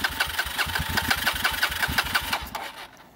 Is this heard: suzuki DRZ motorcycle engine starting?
yes